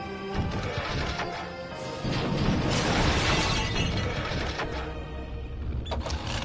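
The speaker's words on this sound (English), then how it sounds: "There's that pot smashing sound effect" A pot smashes in the Full Throttle video game, a loud shattering crash with scattered breaking debris that rattles on for several seconds before trailing off.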